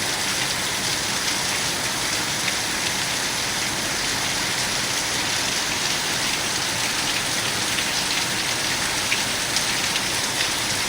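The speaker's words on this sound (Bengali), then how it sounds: "বৃষ্টি হয় না করে মানে একদম ভাসিয়ে দেওয়ার মতন বৃষ্টি হচ্ছে।" Torrential cloudburst rain pours in Bongaon, a dense, steady roar of heavy rainfall hammering surfaces without pause, loud and close, with no voices.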